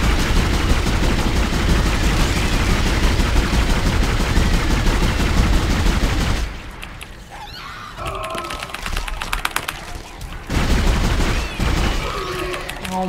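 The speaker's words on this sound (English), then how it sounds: "My weapon is so bad, this is such a bad gun." Pulse rifle fire in the video game Dead Space: dense, continuous automatic bursts for the first six seconds, then scattered shots and impacts among quieter game sounds.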